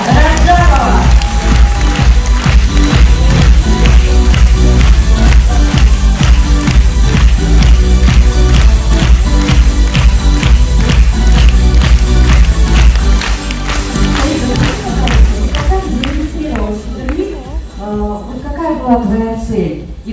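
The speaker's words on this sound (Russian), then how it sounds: "Встречайте! Аплодисменты!" An audience at a Faberlic forum in Moscow greets a speaker with a long, loud burst of applause under pumping stage music, the clapping dense and steady before fading toward the end.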